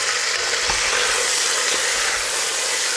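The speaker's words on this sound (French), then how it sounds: "Il va être temps de retourner la viande." Pieces of lamb meat are turned over in a hot pan for a creole lamb stew. A loud, dense sizzle runs close up and unbroken throughout, with faint scraping as the meat is moved.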